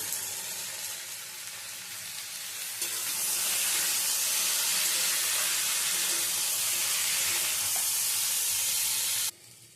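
Taro and potatoes frying in a pan while being stirred, a steady loud sizzle that swells after a few seconds and cuts off abruptly near the end.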